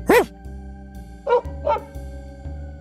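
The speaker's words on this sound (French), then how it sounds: "Et t'entends le chien aboyer." A dog barks indoors nearby, one sharp bark followed by two shorter, softer barks, set against a steady low hum.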